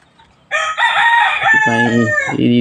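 A farmyard rooster crows loudly and close by, a long harmonic call, while chickens cluck around it in the same brief stretch.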